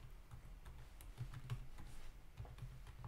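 Quiet typing on a computer keyboard, a rapid uneven run of soft key clicks close to the mic over a low hum, with no talking.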